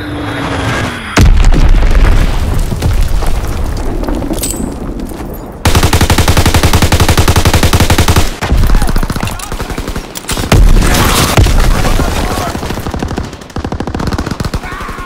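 Bomb explosions and dense gunfire in a Call of Duty WWII match: loud, continuous bursts of automatic fire and heavy booms, very close, with rapid crackling volleys that barely let up.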